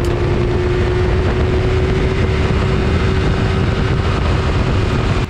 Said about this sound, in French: on va écouter le moteur avec ce petit pot carbone